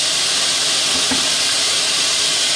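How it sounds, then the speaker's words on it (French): Beef for boeuf bourguignon sizzles in a frying pan as a steady, loud, even hiss of frying that fills the whole stretch, with a faint stir or clink partway through. "je remets toute ma viande dedans."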